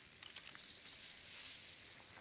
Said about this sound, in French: là j'entends des sifflements de serpents